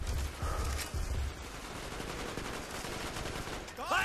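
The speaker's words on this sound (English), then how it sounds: "Sweet sound of bullet fire and explosions." Gunfire and explosions from the Call of Duty: Black Ops video game, a steady dense battle din with low booming blasts early on and a sharp burst near the end.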